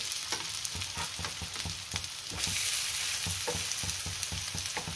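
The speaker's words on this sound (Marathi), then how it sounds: "आता एका साइडने आपण चांगले खरपूस भाजून घेऊया" A potato and gram flour pancake fries on a hot pan, with a steady close sizzle throughout and repeated light scraping taps of a spatula.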